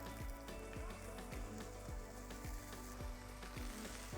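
Mushrooms sizzling in grapeseed oil on a 500-degree griddle, a steady dense crackle with fine popping throughout, and soft regular knocks roughly twice a second underneath, with no talking.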